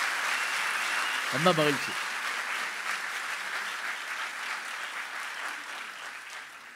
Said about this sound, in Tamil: நாலு பேருக்கு ஒரு கைதட்டு கொடுங்க பார்ப்போம்